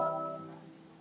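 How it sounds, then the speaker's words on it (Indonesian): An acoustic guitar is strummed once and its notes ring out alone, fading away over about a second at fairly low volume. "Suara gitar."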